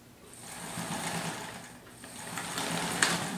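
A home sewing machine stitches on a desk rather than a sewing table, a close steady whirring drone with a slight jiggle, running alone for a few seconds.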